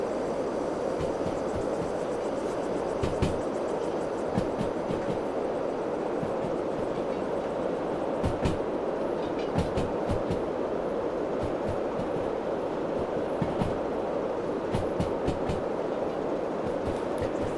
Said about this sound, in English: A little D2 on full throttle here